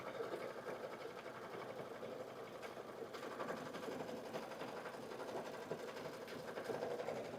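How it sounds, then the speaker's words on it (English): An embroidery sewing machine stitches a cork fabric pouch with brown thread, a steady, fast mechanical whirring and ticking that runs unbroken throughout at moderate level, with no talking. "So that line you just stitched, and it's where it's going to stitch first."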